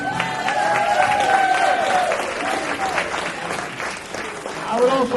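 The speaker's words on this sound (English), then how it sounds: "Let's give the Lifestyle Committee and all the volunteers a big round of applause." An audience at a murder mystery dinner applauds the volunteers with loud, steady clapping and some cheering, while voices carry over the noise.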